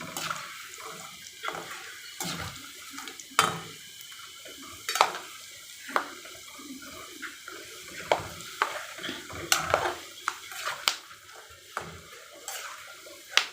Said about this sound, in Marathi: क्रिस्पी होईपर्यंत तळून घ्यायचं आहे आता आपण ह्याला असं पलटून घ्यायचं आहे